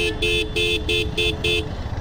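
Heavy road traffic in Asansol, India, with a vehicle horn tooting five times in a quick, even rhythm over a steady rumble of engines nearby.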